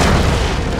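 A loud, full cartoon thunder-thump attack boom from an animated superhero show, one dense low rumbling blast held for just under a second.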